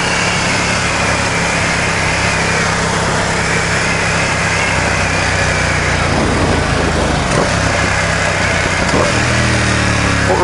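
A Ducati XDiavel motorcycle engine runs loud and steady while riding, a continuous close drone with wind rush and a slight shift in pitch near the end.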